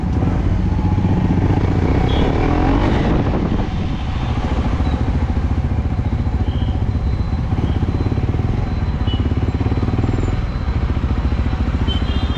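KTM 390 Adventure motorcycle fitted with an Akrapovic exhaust, a loud, close engine note that rises as the throttle is blipped and then settles into a steady, throaty running drone.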